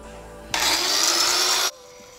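An angle grinder cuts through old bolts welded onto a steel plate, a loud, steady high-pitched grinding whine that starts abruptly, holds for about a second, then stops, with a faint background hum before and after.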